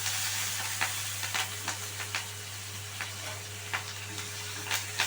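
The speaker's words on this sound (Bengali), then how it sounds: "আমি এখানে কারি পাতাটা টেস্টের জন্য অ্যাড করলাম। একটু জাস্ট হালকা ফ্রাই হবে।" Curry leaves frying lightly in hot oil in a pan for a mixed dal tadka, a steady broadband sizzle with a low hum beneath and several short crackling bursts and stirring scrapes, close and continuous.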